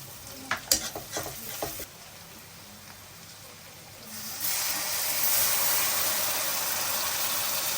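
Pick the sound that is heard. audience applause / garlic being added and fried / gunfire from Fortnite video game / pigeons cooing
garlic being added and fried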